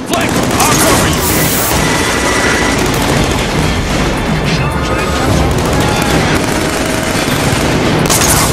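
Sustained suppressive gunfire in the PS3 shooter Killzone 3, set in a scrapyard: dense, loud, continuous automatic bursts with clanking debris and battle noise, steady for the whole stretch without letting up.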